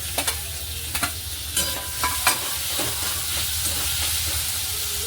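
Chopped onion and tomato fry for paneer bhurji in a pan, a loud continuous sizzle broken by sharp spatula clacks and scrapes early on, with no voices.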